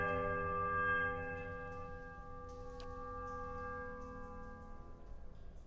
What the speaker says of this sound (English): And then ring the middle larger bell.